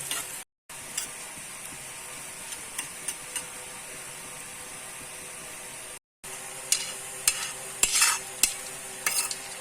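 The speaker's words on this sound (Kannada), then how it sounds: "ಈಗ ಅದನ್ನು ಆದಷ್ಟು ಲೋ ಫ್ಲೇಮಲ್ಲಿ ಇಟ್ಕೊಂಡು ಇದನ್ನು ಫ್ರೈ ಮಾಡಬೇಕು ನಾವು" Chicken masala for a Tulu-style chicken curry fries in a pan on a low flame, with soft stirring scrapes and light ticks over a quiet sizzle. Sound cuts out briefly twice, and nobody speaks.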